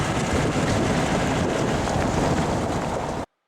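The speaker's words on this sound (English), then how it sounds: "We are now crossing the riverbed by jeep." A jeep crosses the Kali Gandaki riverbed in Nepal with a loud, steady rumble mixed with wind buffeting the microphone, then cuts off abruptly.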